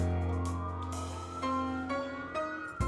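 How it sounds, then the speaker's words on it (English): A city emergency vehicle siren wails in steady rising and falling sweeps, fairly close and loud over a low traffic rumble, with no talking. "It wouldn't be a city without a siren going off"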